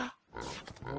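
Cartoonish pig squeals and grunts from a money trough summoning a flying pig in the video game Terraria, a short burst of close, fairly loud animal-like noises after a brief quiet gap.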